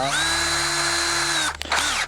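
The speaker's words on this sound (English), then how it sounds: "It's a 1/2 inch drill, but it also has the power chuck on it" An older DeWALT cordless 1/2 inch drill with a power chuck, running on lithium batteries, whines loud and steady close by for about a second and a half, cuts out briefly, then spins up again in a short burst.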